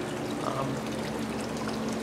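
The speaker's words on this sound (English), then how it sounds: "The pump pumps the water out of the tank" A pump moves water out of a sump tank up into a reservoir feed in a 300-gallon aquarium system with gutters, giving a steady close pouring and trickling flow that continues evenly throughout.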